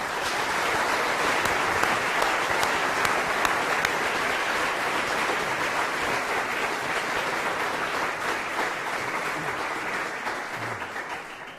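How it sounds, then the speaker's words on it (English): A lecture audience gives long, steady applause after a speaker's introduction, a dense even wash of many hands clapping that fades slightly at the end, with no voices over it. "can I invite you to give him a very warm round of applause for this"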